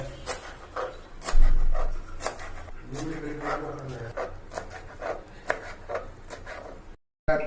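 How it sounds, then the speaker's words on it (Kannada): Coriander leaves are chopped on a board, with a series of sharp, close knife strikes in an uneven rhythm and a voice briefly speaking partway through. "ಇವಾಗ ಕೊತ್ತಂಬರಿ ಸೊಪ್ಪು ಕಟ್ ಮಾಡ್ತಿದ್ದಾಳೆ"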